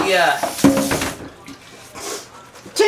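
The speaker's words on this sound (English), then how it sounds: "what you're going to want to do is run this underwater" Tap water runs while an onion is rinsed under it for cooking sloppy joes, a steady broadband rush that rises and fades over a few seconds, partly under a voice.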